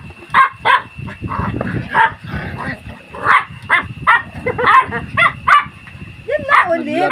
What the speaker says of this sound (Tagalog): Makukulit ng mga tuta.